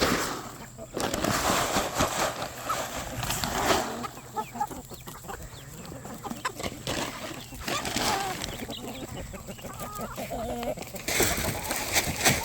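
Backyard chickens cluck and chatter at feeding time, a busy flock heard close throughout while a person talks to them over the noise.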